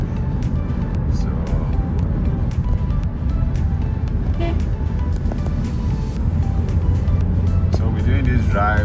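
Car driving through town streets in Nsukka, Enugu State, Nigeria, with a steady engine and road rumble throughout and traffic noise around it.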